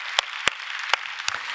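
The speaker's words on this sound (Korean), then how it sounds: "하나님께 박수로 감사와 영광 올려드립니다." A few scattered, separate handclaps in a Korean church Sunday worship service, four sharp claps spaced apart over a quiet room rather than full applause.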